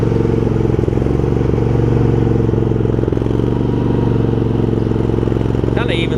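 Craftsman garden tractor engine running steadily at part throttle, a loud close putter with a constant low drone, occasional mechanical clunks and a brief scrape near the end.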